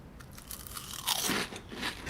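Someone bites into very thin, crispy Korean BBQ flavour NZ Crunchies snacks, giving close, dry crunching bites followed by a few quieter chewing crackles, with no speech.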